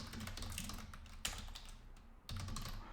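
Steady typing on a computer keyboard while writing code, a quiet continuous patter of keystrokes with a brief pause near the end before the clicking resumes.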